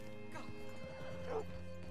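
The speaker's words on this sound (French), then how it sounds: "Attache ton cheval ici." A horse in the Red Dead Redemption 2 video game clip-clops steadily at moderate volume, with a brief whinny partway through over a continuous game soundscape.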